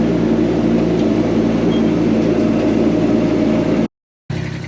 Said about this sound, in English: This machine comes with a Japanese-built Kubota D1105 engine. It's about a 25 horsepower diesel engine.